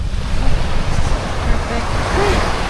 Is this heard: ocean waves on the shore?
yes